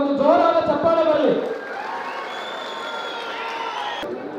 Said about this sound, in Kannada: ಈ ವೇದಿಕೆ ಮುಖಾಂತರ ಅವರೊಂದು ಜೋರಾದ ಚಪ್ಪಾಳೆ ಬರಲಿ